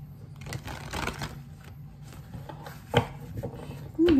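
Soft riffling and tapping of tarot cards being shuffled by hand, with a few sharper clicks and faint murmurs in a quiet room.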